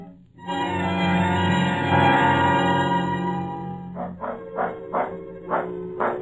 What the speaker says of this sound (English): Lone, he sure is a good bird dog.